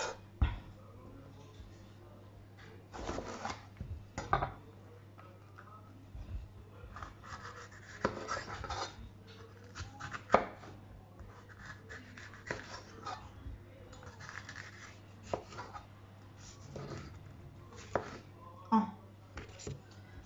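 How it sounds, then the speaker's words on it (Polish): A knife chopping the last of a bell pepper on a board, irregular sharp taps scattered through the clip, quiet and close, with someone talking in Polish between cuts. "Skroimy sobie resztkę papryki, która nam została."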